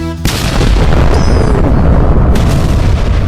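A bamboo rocket at a rocket festival explodes on its launch base: a sudden loud blast followed by a sustained, heavy roaring rumble that fills the moment.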